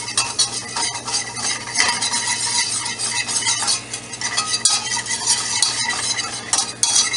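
A whisk scrapes briskly and repeatedly around a pan of seasoned flour for a roux, with a rapid rhythmic rasp over a faint sizzle, close and fairly loud, with no one talking.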